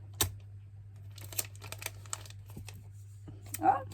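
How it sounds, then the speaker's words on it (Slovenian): Sticky tape being pulled off the roll and torn by hand while wrapping birthday gifts, a sharp rip near the start, then scattered crinkles and soft handling noises, ending with a louder crinkly tear; a low steady hum sits underneath. "Moram še selotejp narezati."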